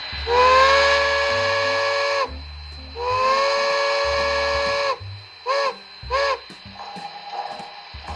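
A model train's DCC sound decoder on a Bachmann 0-6-0 steam switcher plays a steam whistle: two long, loud blasts, then two quick short toots, then quieter mechanical chuffing.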